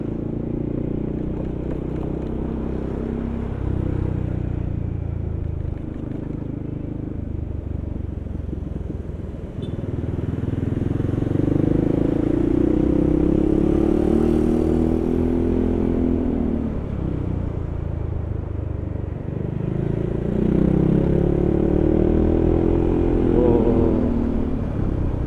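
Yamaha XMAX scooter engine revving up and settling back in repeated swells, loud and close, with a rough, hesitant surge around the middle of the rev range.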